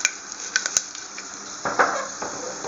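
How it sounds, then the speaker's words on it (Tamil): Mustard seeds and a little fenugreek crackle in hot oil in a pan, with scattered small pops and a steady sizzle that builds toward the end, close and moderately quiet. "கொஞ்சம் கடுகு, லேசாக 2 வெந்தயம் போட்டு நல்லா வெடிக்க விடுங்க"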